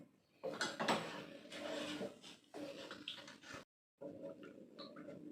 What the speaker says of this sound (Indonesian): diaduk ya sampai larut